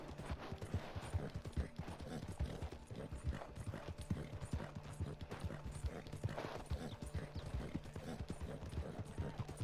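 A horse in the Red Dead Redemption 2 video game clip-clops along in a steady, quick rhythm of hoof beats for the whole stretch, fairly close, with occasional snorting breaths and faint mechanical clatter.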